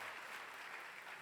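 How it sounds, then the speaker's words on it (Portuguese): A church congregation at a revival service applauds with a faint, even patter of clapping that continues throughout. "Let's put our hands together for the woman of God"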